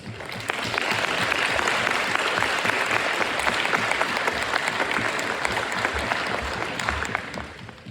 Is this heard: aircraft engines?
no